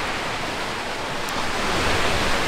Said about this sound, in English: listen to the waves come in